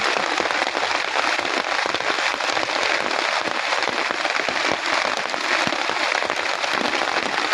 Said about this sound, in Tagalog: Talaga ang ulan.